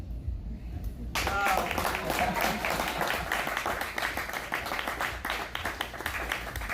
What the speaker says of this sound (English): Javier, a round of applause.